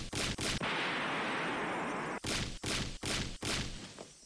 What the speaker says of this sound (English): Shion banged on the door.